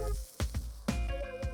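A tomahawk steak sears in a hot pan, sizzling close with sharp bursts and squishing pops as it is moved, brief and uneven.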